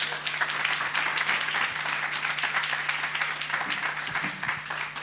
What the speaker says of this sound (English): can we have a warm round of applause to welcome Rich to the stage?